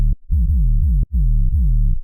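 A distorted dubstep sub bass with an erosion effect adding a thin layer of white-noise hiss pulses in deep, gritty repeating notes with short gaps between them, loud and unaccompanied.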